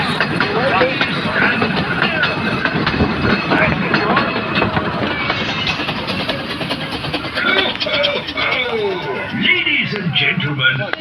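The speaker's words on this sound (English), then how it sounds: "Santa train approaching." The Christmas Santa train on the Groudle Glen Railway, a narrow-gauge line, approaches with a loud, steady rumble and rhythmic wheel clatter and squeal close by, while a crowd chatters in the background.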